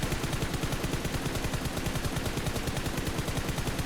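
Rapid automatic gunfire rattles in the mobile battle royale game PUBG Mobile, a dense, evenly spaced burst of shots that runs loud and unbroken for several seconds with no talk.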